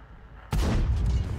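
A tank cannon fires once in the World of Tanks game, a sudden loud blast that rolls on as a heavy rumbling boom, following a short stretch of quiet background.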